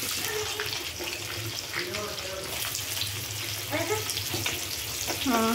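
Onions frying in mustard oil with dry spices for chicken kosa, giving a steady, close sizzle with stirring scrapes throughout while someone talks over it.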